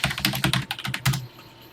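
Rapid key presses on a TI-99/4A home computer keyboard, a quick run of close, crisp clicks that stops abruptly after about a second, with no talking.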